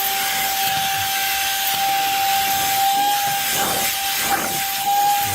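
A portable car vacuum cleaner rated at 14000Pa suction picks up cereal and wood chips, with a steady high motor whine and rattling debris throughout.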